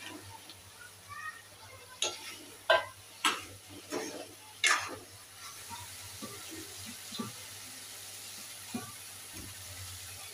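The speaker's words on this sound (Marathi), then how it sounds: "आता ह्यामध्ये मी जे आपण शालो फ्राय केलेलं चिकन होतं ते टाकून घेते" Pieces of shallow-fried chicken drop into sizzling masala in a hot pan for Chicken Afghani, with a few sharp sizzling bursts, then a quieter crackle and occasional stirring clinks.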